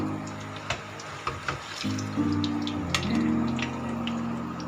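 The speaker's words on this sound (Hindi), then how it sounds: "एक एक करके फ्राई कर लें" Batter-dipped mutton chop pakora pieces fry in hot oil, giving a steady close sizzle with a few sharp pops and clinks near the start.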